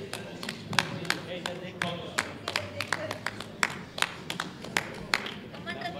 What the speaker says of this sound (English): you may be able to hear the Indian team clapping right behind us